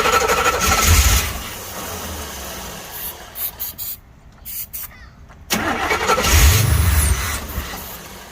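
A 1984 Corvette with a freshly changed fuel pump and a new battery cranks and catches. There are two loud, rough bursts of engine noise with a quieter, sputtering stretch between them, and faint voices nearby.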